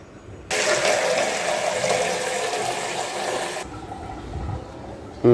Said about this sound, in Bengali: আমরা এখন গাছে পানি দেবো